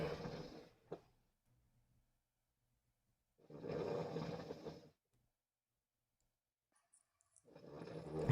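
A person snoring, three rasping breaths of a few seconds each, spaced several seconds apart with near silence between them.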